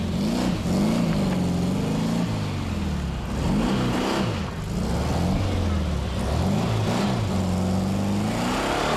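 A low-line Volkswagen Beetle rally car on the 1992 Circuit of Ireland drives hard, its engine revving and rising in pitch through repeated accelerations and gear changes, loud and close throughout.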